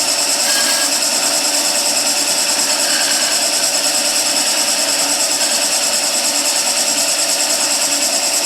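A wood lathe spins a spindle while a skew chisel rolls beads, giving a steady, loud, continuous whirring hum with a broad scraping hiss, unchanged throughout and with no talking.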